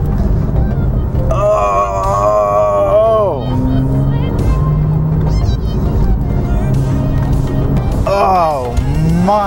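A Porsche 911 C4S accelerates hard along a Southern California canyon road, its engine note climbing and falling in steady sweeps through the gears, loud and close throughout.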